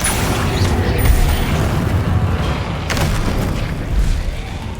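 Confringo spells burst in Hogwarts Legacy amid a continuous loud rumble of booming, crackling blasts, with dense low-end roar throughout and a few sharper pops standing out.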